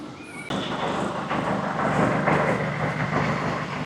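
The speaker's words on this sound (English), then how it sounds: "Next up is the Zephyr Railroad. That's a cool train." A small amusement park miniature train, the Zephyr Railroad at Dorney Park, rumbles past with rhythmic clacking wheels, steady and fairly close, after a brief quiet start.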